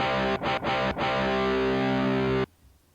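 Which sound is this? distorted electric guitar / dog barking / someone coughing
distorted electric guitar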